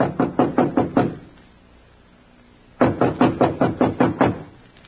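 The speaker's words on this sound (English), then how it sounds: "Then, squaring his shoulders, he knocked." Knocking on a door as a radio drama sound effect, two bursts of about six sharp, evenly spaced raps, close and clear, separated by a pause of quiet room hiss.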